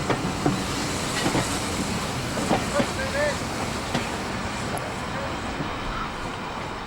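The LNER Class V2 2-6-2 steam locomotive Green Arrow running along the railway, heard as a continuous loud rumble and rail clatter with a faint squeal, with an announcement voice partly mixed in.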